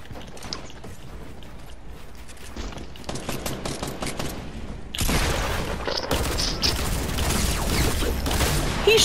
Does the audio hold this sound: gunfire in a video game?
yes